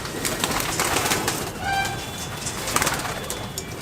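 Malwai pigeon, a prized Punjabi flying breed, cooing in soft repeated low murmurs close by, amid a steady background hiss with no talk.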